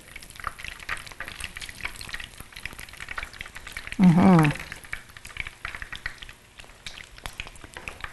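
Wontons browning in a frying pan with steady, soft sizzling throughout and a brief louder burst of crackle partway through.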